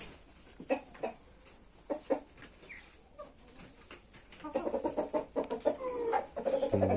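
Brooding hens in a village flock give scattered, soft clucks at first, then a denser burst of quick, overlapping clucking near the end. The birds sound close and fairly quiet, with no talking over them.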